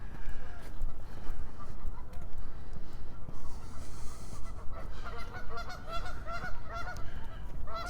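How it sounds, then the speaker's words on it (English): Geese honk repeatedly from a short distance beside a lake in Regina in late March, pairs calling over steady outdoor background noise with some low rumble. "Some geese over there."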